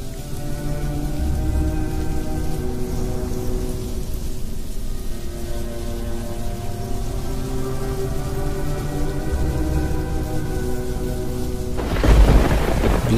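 Heavy thunderstorm rain pours steadily over a Malaysian rainforest, a dense continuous hiss with low rumbling thunder, swelling into a louder burst of downpour near the end.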